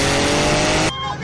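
A Tesla drag races a Porsche Turbo S, and a loud, close engine roar with tire noise fills the first second, then cuts to quieter background with people talking.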